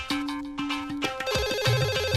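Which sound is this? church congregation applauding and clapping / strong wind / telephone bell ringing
telephone bell ringing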